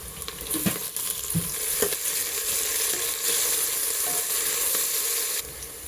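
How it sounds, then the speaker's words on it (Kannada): Onions frying in oil with coriander and mint leaves for mutton biryani, giving a steady close sizzle with occasional stirring scrapes and clinks throughout, no voices. "ಈರುಳ್ಳಿ ಎಲ್ಲ ಚೆನ್ನಾಗಿ ಫ್ರೈ ಆಗಿದೆ."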